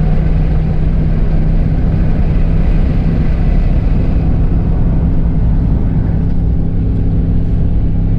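A UTV side-by-side holds third gear with a loud, steady engine drone and a rumbling low drivetrain roar. The sound is heard from on board, with no pauses or shifts.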